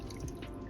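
Water splashes into a saucepan holding brown sugar, a brief, close, wet pour with dripping texture.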